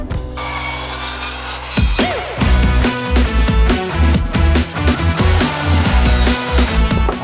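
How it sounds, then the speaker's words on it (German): A hand saw rasps through wooden corner posts for raised garden beds in steady back-and-forth strokes, loud and close, over background music with no talking. "Die Säge ist gut."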